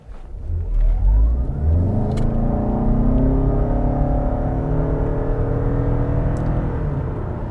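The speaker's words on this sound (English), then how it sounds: "In sport mode, I find the powertrain to just be a little bit noisier compared to when it was in actual eco mode." A 2021 Toyota Camry LE hybrid powertrain in sport mode accelerates from inside the cabin: a steady whirring engine drone rises smoothly in pitch with a faint electric whine above it, sustained and fairly loud with no talking.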